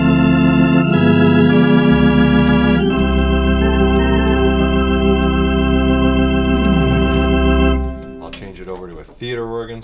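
Roland Atelier AT-10S organ in a traditional organ voice, playing sustained full chords with a strong pedal bass that fades after about eight seconds, then a brief spoken voice.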